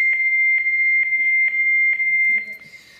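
Fax modems exchange training and handshake tones as a steady, piercing single-pitched tone, broken by about six short, regular clicks. It ends in a brief hiss as it fades.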